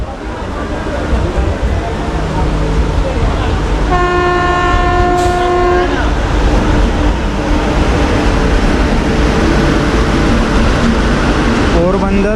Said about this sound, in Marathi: या बाजूला कुठल्या तरी ट्रेनचं क्रॉसिंग लागलं आहे